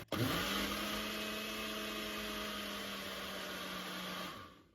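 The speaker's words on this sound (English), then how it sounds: "It'll only take a second to blend up." A kitchen blender blending tomato sauce whirs steadily at full speed for about four seconds, loud and close, then winds down and stops.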